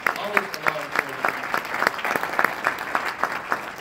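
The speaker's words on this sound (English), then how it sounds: "Give them a round of applause." Audience applause for Marine Corps veterans at a speaking event, a steady patter of many clapping hands for nearly four seconds with a voice faintly beneath.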